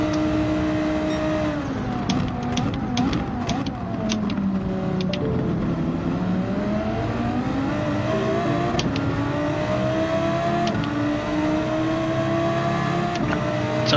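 Group 4 Mazda race car in Gran Turismo 7 droning steadily throughout, its engine pitch rising and falling through gear changes, with a few faint clicks and no talk.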